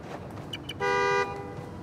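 A single short car horn honk sounds at moderate distance in the Spider-Man: Miles Morales game, standing out briefly from soft background noise.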